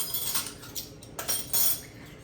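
Continuous light scraping and clinking of a whisk stirring dry snickerdoodle cookie ingredients, including cream of tartar, baking soda and salt, in a bowl, close and fairly soft, with no talking.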